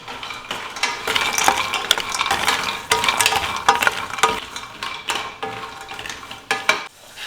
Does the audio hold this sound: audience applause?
no